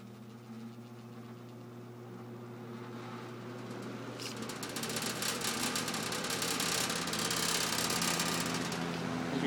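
A General Electric reversible box fan running in reverse gives a steady mechanical hum with a light rattle, growing slightly louder and brighter partway through.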